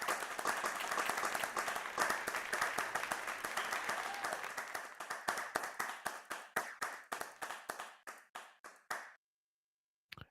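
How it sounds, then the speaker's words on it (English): Dense audience applause at a showcase event swells into a thick wash of clapping, then thins into scattered individual claps that taper off and stop abruptly near the end. "So everybody, let's give a round of applause for Oh, Blockstone."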